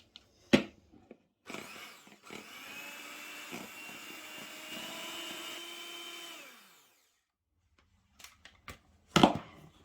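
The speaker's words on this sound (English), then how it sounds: "I'm just going to whisk it until it's stiff peaks" Double cream whisked toward stiff peaks with an electric whisk, a steady close motor whir lasting several seconds, framed by sharp knocks and clatter before and after.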